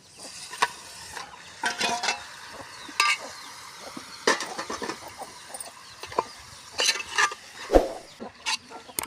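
A Mughlai egg, chicken and prawn biryani mixture is stirred by hand, the marinated prawns and chicken worked together in a spiced masala, giving irregular wet clinking and scraping knocks spread across several seconds.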